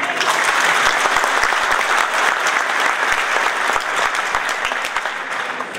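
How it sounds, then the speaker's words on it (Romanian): Sustained applause from a crowd at a political party candidate launch, dense clapping filling the whole stretch at a steady, loud level with no voices breaking through. "Chiar merită acestea aplauze."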